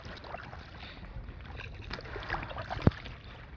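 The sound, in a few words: paddling a small boat on water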